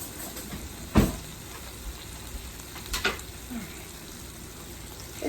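A pat of butter sizzles in a frying pan before eggs are added, with a steady soft crackle and a couple of sharp knocks of the pan or utensil.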